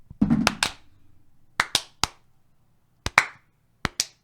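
Sharp, close hand claps ring out in a quiet room in separate pairs and single strikes, about nine in all, each crisp and loud with a short decay, no voices.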